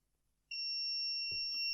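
An ESP8266-controlled electronic buzzer switched by a relay sounds a steady, high-pitched tone that starts abruptly and holds continuously, with a couple of faint knocks underneath.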